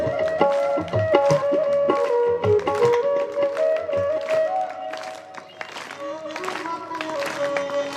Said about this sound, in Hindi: प्रेम से ताली के साथ इस संकीर्तन में ताल मिलाओ सब अपनी अपनी